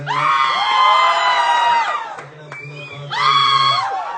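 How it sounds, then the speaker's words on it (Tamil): An audience at an event for the film Bison cheers and whoops loudly, with sustained high shouts and screams from the crowd, then a brief lull before a second burst of cheering. "நல்ல ரெஸ்பான்ஸ், கைத்தட்டல்"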